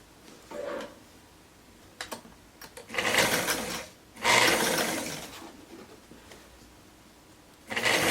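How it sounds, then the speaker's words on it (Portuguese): A sewing machine stitches and finishes the crotch seam of a gypsy-style romper in a few separate bursts, each a loud close whirring run of about a second, with quiet handling between them. "Vou começar a costura fechando o gancho aqui, ó, costura e faz acabamento."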